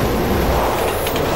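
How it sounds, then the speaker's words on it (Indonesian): A loud, continuous rumble of a train rolling past in the dark in the video game Resident Evil 6, filling the short stretch with no talk over it. "Oh, kereta."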